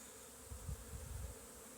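Faint, low droning hum of many honeybees buzzing together around hives in an apiary, steady and distant, with no voices.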